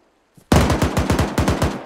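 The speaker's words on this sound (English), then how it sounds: "It's the two M113s, I think, that are shooting." Two M113 armored vehicles in ArmA 3 fire machine guns in one loud, close burst of about a dozen rapid, evenly spaced shots after a brief faint knock.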